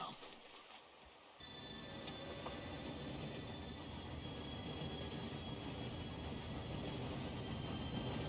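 Approaching train in Red Dead Redemption II, a steady rumbling roar with mechanical rattling that swells in after a quiet second and holds loud to the end, with faint voices underneath.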